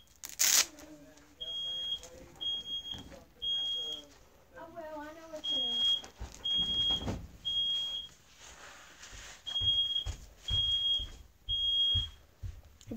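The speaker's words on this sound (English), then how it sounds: "Fire alarm just went off because my brother is taking a really hot shower." A smoke alarm set off by steam from a hot shower chirps in short repeated beeps, pausing and resuming, while people talk nearby.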